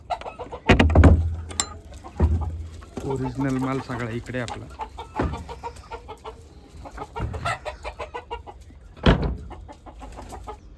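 Native breeding hens on a village poultry farm cluck in bursts close by, with a drawn-out cackle in the middle; someone speaks briefly over them.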